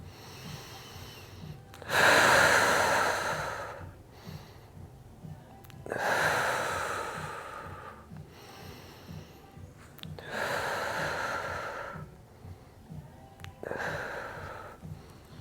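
Slow, deliberate breathing during a seniors' floor exercise routine, with four long, loud exhales spaced about four seconds apart and quieter breaths between them, close to the microphone and with no talking.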